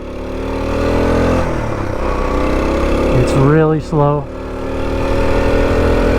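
A 1984 Honda Trail 110 small-displacement single-cylinder engine drones steadily while riding, loud and close, with someone speaking briefly over it in the middle before the engine note carries on alone.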